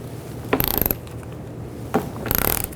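Two short bursts of rapid ratchet clicking, close and crisp, come from a ratchet with a 10mm socket turning a headlight bolt on a 2007-11 Honda CR-V, with a pause between them and no talking.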